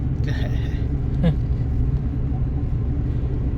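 A vehicle engine rumbles low and steady close by for the whole stretch, with a brief voice near the start, in a village setting.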